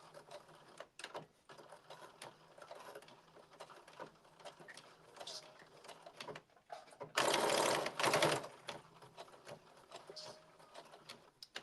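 A sewing machine stitching a blazer seam gives one loud, close burst of rapid mechanical whirring partway through, with quiet rustling and handling noises around it.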